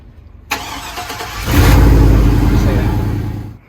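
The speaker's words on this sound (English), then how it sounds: "That's how you start the truck." A pickup truck that thieves tampered with using a pry bar cranks over after a sharp click, then catches and roars into a loud, steady idle up close before cutting off.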